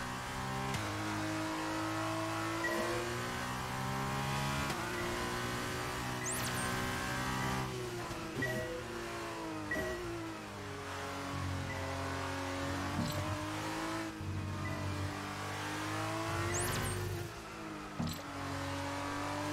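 A Formula 1 car engine screams around the Yas Marina circuit in the F1 2022 racing game. High revs rise and fall through gear changes and corners, loud and continuous with no talk.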